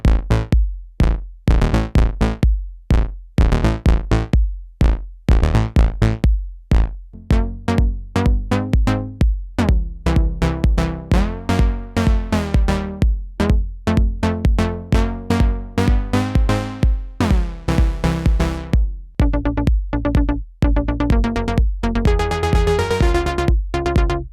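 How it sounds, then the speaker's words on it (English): Bright, punchy electro house synth lines played on a Novation Peak synthesizer in a driving dance rhythm, with stabbing chords and a rising, buzzy lead toward the end. No voices. "we're going to make 3 classic electro house synth lines on the Novation Peak"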